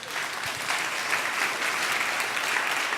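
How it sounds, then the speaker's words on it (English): Steady, dense applause from a seated audience at a talk on brain health, many hands clapping at an even, fairly loud level without a break. "Let's give him a round of applause."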